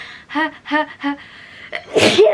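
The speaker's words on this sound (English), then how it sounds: "I think I'm gonna sneeze" Three rising breathy gasps build up, followed by a sharp, loud sneeze burst at the end, close to the microphone.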